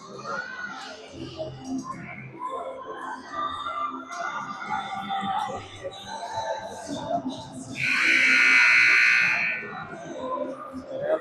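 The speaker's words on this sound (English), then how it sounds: "And the buzzer sounds." A loud sustained buzzer blares through an ice hockey arena during a varsity high school game, lasting about two seconds near the end, over crowd noise and announcer commentary.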